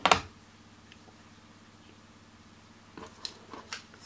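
Scissors cutting fabric during quilting: one sharp close snip at the start, a quiet stretch, then several lighter clicks and snips toward the end over a low steady hum.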